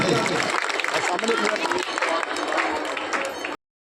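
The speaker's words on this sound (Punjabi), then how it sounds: "ਤੇਰੇ ਵਾਸਤੇ ਵੀ ਜ਼ੋਰਦਾਰ ਤਾਲੀ" Crowd applause at a village Teeyan fair in Punjab, a dense, steady roar of clapping and cheering held for about three and a half seconds before cutting off abruptly.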